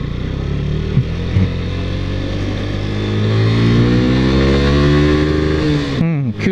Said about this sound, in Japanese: ジクサー150は嫌な振動は出ないですね。 ちょっと回してみましょうね。